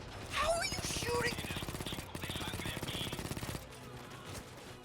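Rapid automatic gunfire from Rainbow Six Siege, a long string of evenly spaced shots with players' voices talking over the first part.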